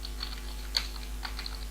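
Light, scattered keystrokes on a computer keyboard, a few soft clicks with one sharper tap, close by over a steady low electrical hum while someone types up a data structures coding assignment.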